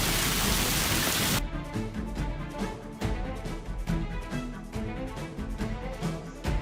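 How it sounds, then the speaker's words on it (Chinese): A heavy rainstorm lashes Beijing, a dense, steady roar of downpour with scattered sharper drops and splashes, loud and close throughout with no voices. "暴雨来势汹汹呢"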